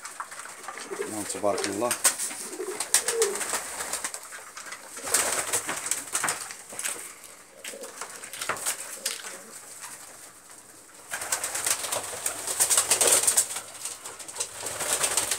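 Pigeons coo repeatedly in soft, rolling calls close by, with occasional rustling. A voice speaks briefly over them.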